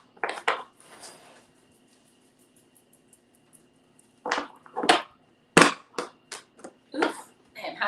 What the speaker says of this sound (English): Oof, I'm having a hard time shuffling.